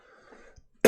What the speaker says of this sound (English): So I'm gonna try not to cough a whole lot